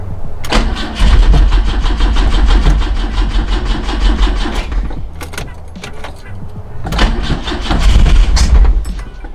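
A 1973 BMW 2002 engine cranks and starts twice in close succession, with loud starter churning catching into a rough, rumbling idle each time, with short quieter gaps between.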